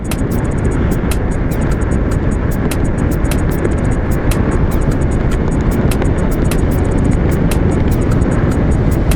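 A VOLTO Cruise 20 scooter accelerates in fourth gear, a loud, steady broadband roar, likely mostly wind rush, held without a break from start to finish with no talking.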